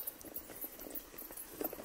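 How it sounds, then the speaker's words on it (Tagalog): Horse hooves clip-clopping along a path in a video game, a steady walking rhythm of soft, close hoofbeats over a low background hiss, with no voices. "siguro ilang kilometro pa yung lalakarin nitong kabayo para makarating tayo dun sa bahay."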